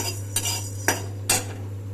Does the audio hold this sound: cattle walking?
no